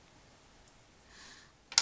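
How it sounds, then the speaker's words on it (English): Scissors make a single sharp snip near the end while trimming the tail flukes of a crayfish fly at the tying vise, following a quiet stretch with faint handling noise. "You do it with one snip like this."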